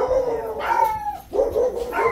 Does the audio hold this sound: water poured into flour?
no